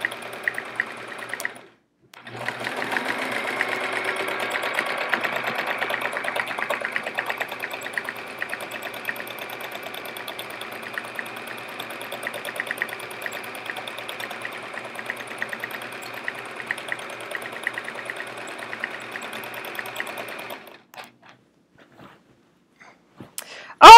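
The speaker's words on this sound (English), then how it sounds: "The machine makes a different noise when the bobbin is getting low." A sewing machine stitches free-motion swirls on a chevron quilt with its bobbin running low, humming steadily and evenly for about eighteen seconds, close and alone, then stopping.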